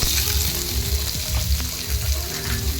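Boiled chicken pieces fry in white oil, a steady loud sizzle filling the pan with crackling bursts throughout, close and continuous, no talking.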